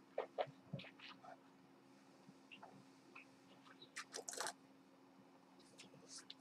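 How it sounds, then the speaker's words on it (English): Wine swished around the mouth during a tasting, a close, quiet run of wet squishing and clicking sounds in short irregular bursts. "So let's give it a rinse."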